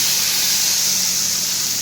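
Garlic tadka poured over mashed chana dal sizzles in a loud, steady hiss that holds evenly for the whole stretch, with no voices.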